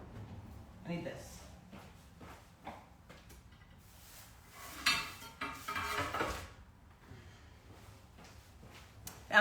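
Someone rummages through kitchen cutlery and utensils for a knife while cooking with cilantro and lime. Metal clinks and clattering come in scattered bursts under ongoing talk.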